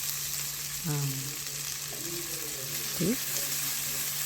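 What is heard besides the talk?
onions frying in pan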